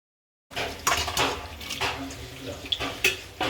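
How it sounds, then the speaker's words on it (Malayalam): Pieces of pork dropped into boiling water in a kitchen pressure cooker, giving a few splashes and bubbling water with light clinks of utensils against the pot, close and fairly loud, with no talking. "ഞാൻ ഈ തിളച്ച വെള്ളത്തിലേക്ക് ഞാൻ ഈ ഇറച്ചി കുറച്ച് ഇറച്ചി ഇട്ട് കൊടുക്കാൻ പോവാം"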